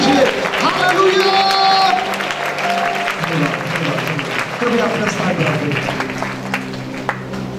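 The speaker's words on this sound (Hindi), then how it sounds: "ताली बजाकर प्रभु को धन्यवाद दीजिए।" Congregation clapping hands during a Pentecostal church worship service in Udaipur, Rajasthan, steady applause under loud voices and sustained musical or sung tones, the clapping continuing throughout.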